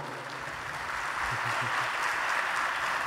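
Audience applause in a hall welcoming fashion designer Olga Piedrahíta, a steady wash of clapping throughout, moderately loud, with a few low thumps underneath.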